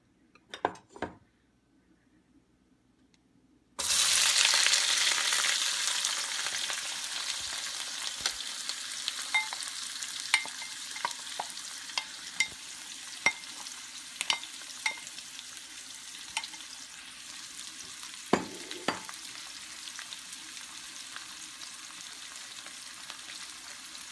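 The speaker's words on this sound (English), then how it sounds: "I've already preheated the oil, and now I'm going to put in the onions." Onions hit preheated hot canola oil with a sudden loud sizzle that settles into steady crackling frying, with occasional utensil clinks and stirring scrapes over it.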